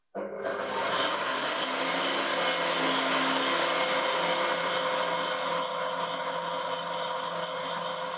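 An electric mixer whips thick, congealed frosting made with powdered whipped cream. The motor whirs loudly and steadily from start to finish, with no voices.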